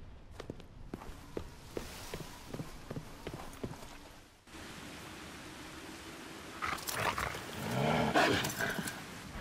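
A dog in Resident Evil 6: quick rhythmic pattering steps tap along, and a louder rough snarling burst swells near the end over a low ambient background.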